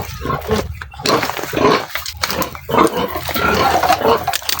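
Breeding sows in a backyard pen grunt and squeal loudly and almost without pause, rough overlapping calls close by with no voices.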